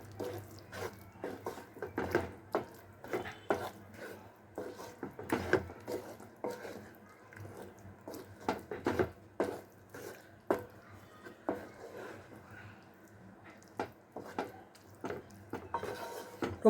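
A spoon stirs brinjal chutney in a pan, scraping and clinking against the metal in an uneven rhythm with a few sharper knocks, close and fairly soft.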